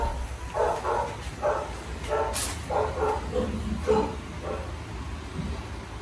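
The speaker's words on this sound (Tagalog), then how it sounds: "narinig mo lagi yung mga tahol ng mga aso" Dogs barking at a home in the Philippines, a series of repeated barks and yips spread across the moment at moderate distance over a steady background hum.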